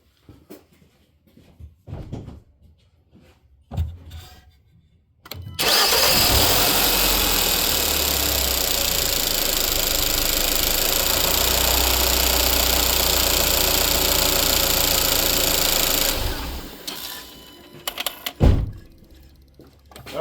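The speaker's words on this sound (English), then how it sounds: "Let's start and see how she runs." A 2014 Hyundai Santa Fe 2.0T AWD, fresh spark plugs fitted, cranks and fires into a steady, loud idle that holds for about ten seconds before cutting off, with quiet clicks and handling noises before and after.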